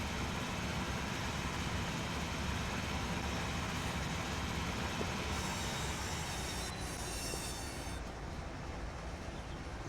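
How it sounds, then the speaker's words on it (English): PC-44 locomotive running in Train Sim Pro USA, a steady, fairly quiet broadband rumble of train travel with rolling noise held evenly throughout, no voices. "Listen to how quiet the PC-44 is."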